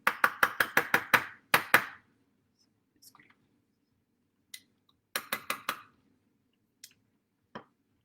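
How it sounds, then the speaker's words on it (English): A tablespoon scrapes and clinks against a bowl during mixing for a Moroccan roasted eggplant and lentil dish, with a quick run of sharp taps, a pause and then sparser clicks. "I'm currently using a tablespoon to mix this"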